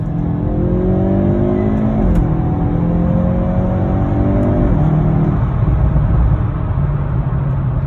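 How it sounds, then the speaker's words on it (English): A 2021 Hyundai Veloster N with an 8-speed dual-clutch gearbox pulls hard at full throttle. The engine note climbs loudly through quick upshifts, with rising pitch sweeps broken by brief drops at each gear change. "So I'm gonna go ahead and floor it and let you guys see for yourself."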